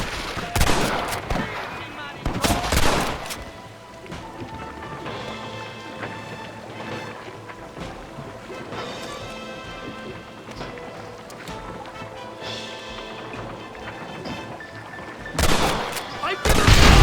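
Gunfire in the Western video game Red Dead Redemption, sharp bursts of shots clustered at the start and end, with scattered shooting and character voices in between.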